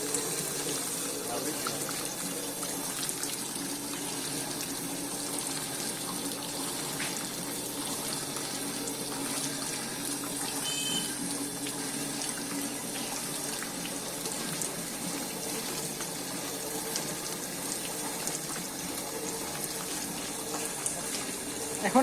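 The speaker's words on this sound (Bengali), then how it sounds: "হাত দিয়ে ঘুরিয়ে দুধ থেকে ক্রিম তৈরি করা হচ্ছে।" A hand-cranked cream separator splits cream from milk, producing a continuous, even stream of flowing liquid with a faint mechanical whir underneath.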